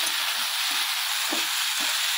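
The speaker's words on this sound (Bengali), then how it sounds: "আর এখানে ভাজছি আলু বরবটি ভাজা।" Potatoes and long beans fry in a pan with a constant close hiss of sizzling oil, broken by a few soft stirring thumps.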